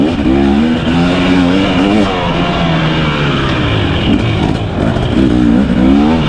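A 2023 KTM 250XC two-stroke dirt bike engine under load on a Crow Canyon trail ride, droning loud and close for several seconds with rising and falling revs and continuous wind rumble, no voices.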